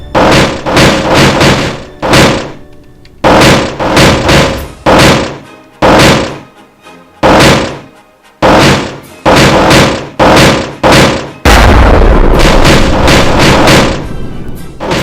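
Death Blossom missiles launch in rapid succession from a Last Starfighter-style craft in Kerbal Space Program, a loud punchy series of heavy thumping bursts with short gaps, ending in a sustained roaring rush.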